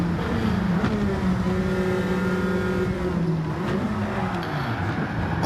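A Maserati GT race car in a racing video game at Daytona, its engine droning loud and close with a steady roar whose pitch slides and shifts through the clip, with no talk.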